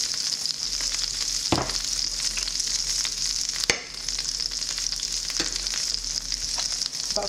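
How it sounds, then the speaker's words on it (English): Chopped onion sizzles steadily in melted butter in a pan, a continuous close crackle with a few louder clinks of a utensil. "add one more tablespoon of butter with some onion"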